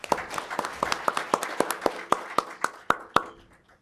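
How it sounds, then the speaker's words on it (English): A conference audience applauds to welcome a speaker to the stage, a sparse run of distinct, sharp handclaps ringing out in a reverberant hall, slowing and fading out toward the end. "give a big round of applause and appreciation for Dr."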